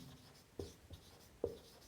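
Chalk or marker writing numbers on a board during a number-system class, a few faint separate strokes and taps in a quiet room with no talk.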